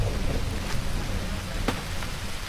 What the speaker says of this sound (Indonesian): hujan seketika turun tanpa ancang-ancang